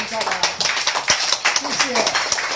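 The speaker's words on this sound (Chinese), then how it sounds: "自己帮自己再次掌声鼓励一下吧" Diners in a restaurant in Tainan clap together in a brief round of applause, with uneven scattered claps overlapping a voice speaking through a microphone.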